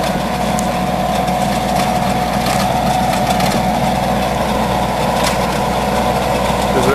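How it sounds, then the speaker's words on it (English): A 48-inch Howard rototiller mounted on a 35–40 horsepower Kubota tractor, a steady loud diesel engine drone with low rumble and mechanical vibration, constant throughout without speech. "This is a Howard rototiller."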